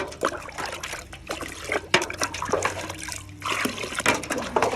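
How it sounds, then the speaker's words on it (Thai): Bio-fermented liquid poured into a watering can, a close, continuous trickling and splashing stream that rises and falls in strength over several seconds. "เราจะเอามาใส่ในบัวนะคะ"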